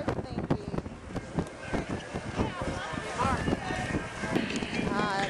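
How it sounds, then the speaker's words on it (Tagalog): Strong wind buffets the microphone in gusty rumbling bursts throughout, with people talking and moving underneath. "Ooh, it's so windy."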